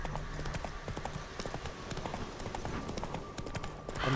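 A horse gallops in The Witcher 3 with a steady, rapid clip-clop of hooves over a dense, loud game soundscape, continuous throughout without spoken words.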